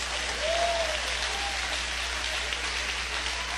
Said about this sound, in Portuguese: Pode dar mais aplausos.